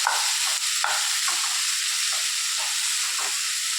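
Grated coconut mixed with spice powders, stirred in a hot pan, giving a dense, loud steady sizzle with soft scraping strokes from the spoon, close up and without speech.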